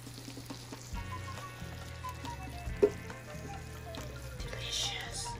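Chicken caldereta sizzles softly in a pan while being stirred, a low steady frying hiss with one sharp utensil clink midway and faint background sounds.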